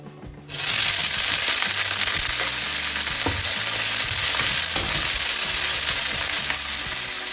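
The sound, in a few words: garlic chives added to hot oil in wok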